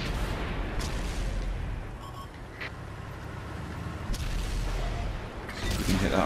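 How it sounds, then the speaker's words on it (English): Tank cannon fire in World of Tanks on Xbox, played in a Centurion Mk. 7/1 against a T-34, with a few sharp booming shots and impacts over a constant low engine rumble. "Good shot into the side of the T-34's turret."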